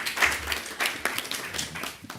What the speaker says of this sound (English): We can applaud also.